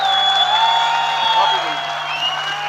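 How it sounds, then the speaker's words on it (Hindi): Audience applause at a speaking event in Dehradun, steady and fairly loud, with some whoops, running continuously under someone talking. "देखो तालियां।"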